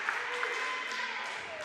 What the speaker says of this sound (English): Hear this home crowd getting into it here.